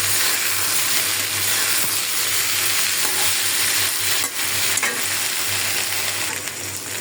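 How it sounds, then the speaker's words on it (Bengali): Vegetables frying in a pan with garlic paste added, a loud steady sizzle with scraping stirs throughout and no voices. "সবজিটা ভাজা হয়ে গেছে, দিয়ে দিলাম একটু রসুন বাটা।"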